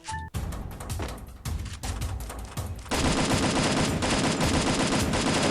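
Rapid automatic gunfire in the mobile battle royale game Free Fire, dense loud bursts of shots that merge into continuous sustained firing in the second half, with no voices over it.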